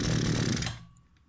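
A gasoline brush-cutter scythe engine that keeps running with the choke lever closed, heard as a loud, rough buzzing idle that drops off abruptly partway through and leaves a faint residual hum.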